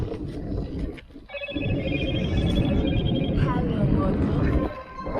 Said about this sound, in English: I hate that ringtone.